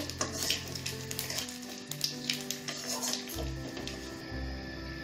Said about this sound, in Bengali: এই তেলে আমি দুটো তেজপাতা আর হাফ টিস্পুনের মতো কালো জিরে ফোড়ন দেব।